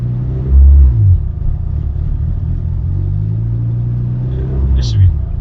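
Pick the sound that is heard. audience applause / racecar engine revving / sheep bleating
racecar engine revving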